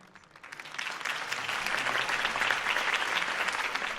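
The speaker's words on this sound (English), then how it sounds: "If only Mr. Wayne, my campaign's largest backer, could have heard that applause" A crowd breaks into applause in the video game The Batman: The Telltale Series, rising quickly from quiet to a full, sustained clapping that holds steady.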